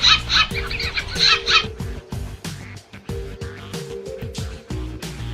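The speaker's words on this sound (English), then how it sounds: "sometimes the birds bully each other" Several birds squawk and screech at one another in a noisy, overlapping squabble, harsh calls repeating close by with no one talking.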